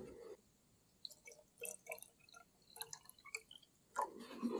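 Water drips and trickles into a container being topped off for an electrolysis bath for a Caterpillar D2 tractor's Zenith TU-4C carburetor, with scattered faint drops and splashes and a louder pour near the end.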